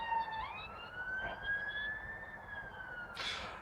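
An ambulance siren wails in a rising, sweeping tone for a few seconds, fairly faint and distant-sounding, with a brief bright burst near the end.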